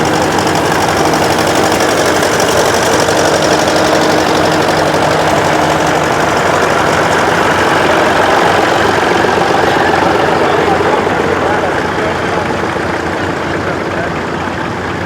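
A Massey Ferguson TED20 tractor with a two-furrow plough idles at an outdoor tractor show, a steady, loud, continuous engine rumble throughout, with faint voices in the background.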